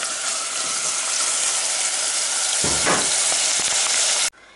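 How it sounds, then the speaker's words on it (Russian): Onion sizzles loudly in olive oil in a small two-litre pot, a dense steady frying hiss with a brief stirring scrape near the middle before it cuts off abruptly at the end. "Вот сейчас я налила сюда 4 ложечки оливкового масла и обжариваю"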